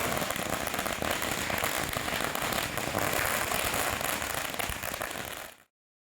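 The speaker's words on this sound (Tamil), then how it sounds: "1 லட்சம் வாலா சரவெடியை வெடித்து அப்பகுதி மக்கள் தீபாவளி கொண்டாடி உள்ளனர்." A long string of one lakh firecrackers bursts during Diwali celebrations, a dense, unbroken crackling roar of rapid pops that stays loud and steady for over five seconds before cutting off abruptly, with no voices.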